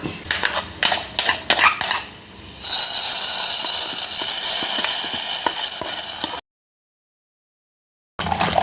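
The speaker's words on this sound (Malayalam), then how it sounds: "ഈ സമയത്ത് നമുക്ക് ഇത് കറിയിലേക്ക് ഒഴിച്ചു കൊടുക്കാം" Hot cumin and fenugreek tempering sputters and is poured into tomato sambar. Crackling pops give way to a loud, steady hiss of steam, then a sudden stretch of silence before the sizzle returns briefly.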